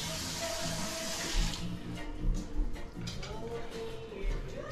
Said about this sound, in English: I'm gonna wash my hands and set it.